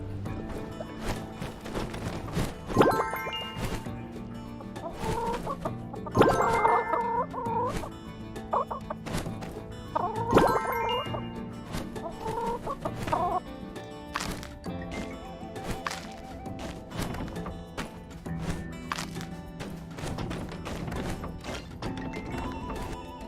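Chickens in a video game cluck and squawk repeatedly over game sound effects and thwacking noises, with busy, layered bursts throughout.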